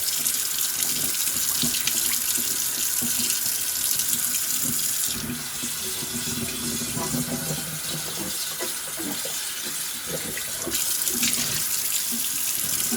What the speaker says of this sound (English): We're gonna make sure we get all this soapy water out of here.